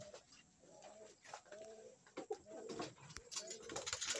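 Pigeon cooing softly in repeated low throaty phrases, fairly close, with faint background noise and no talking.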